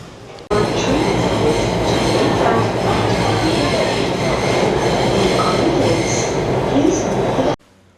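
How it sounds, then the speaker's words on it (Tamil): An underground metro train in Singapore rumbles past loudly and steadily for several seconds, with rail clatter and a faint wheel squeal, starting and stopping abruptly. "இதுதான் அண்டர் கிரவுண்ட் மெட்ரோக்குள்ளே போகிற வழி"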